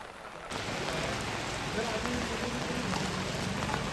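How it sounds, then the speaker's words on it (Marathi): Unseasonal rain falls steadily at a Monday village market, a dense even hiss of drops on surfaces that starts suddenly and continues without pause. "हे म्हणून पाऊस चालू आहे, अवकाळी पाऊस"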